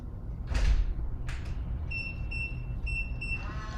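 Two quick whooshing movements of a door, then a run of high electronic beeps from the door repeating in a steady pattern, faint background hum throughout.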